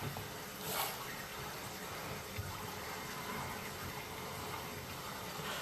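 Water trickles and rushes steadily through an underground sewer pipe beneath a street, a constant hollow flow with no voices.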